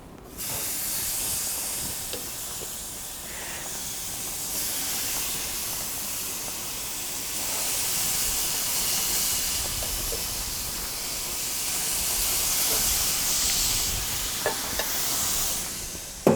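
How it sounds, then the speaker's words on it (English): Steady sizzling hiss of honey sriracha chicken searing on a hot grill, continuous and fairly loud, with occasional small pops and crackles. "what you really want to hear is a sear."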